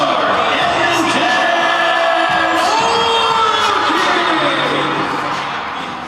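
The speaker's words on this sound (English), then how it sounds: "It was a packed crowd as schools all around Edmonton came to the annual CN Hockey Hooky game, and the kids had plenty to cheer for." A packed hockey arena full of schoolchildren at a daytime junior game cheers and shrieks loudly, a dense wall of high voices and whoops that holds steady before fading at the end.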